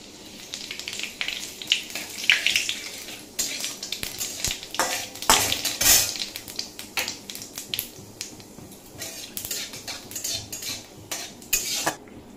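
Cumin, half a dried chilli and a bay leaf sizzle in hot oil over lowered heat for a Bengali bottle gourd shukto, with scattered metal clinks of a utensil against the pan over a soft crackle.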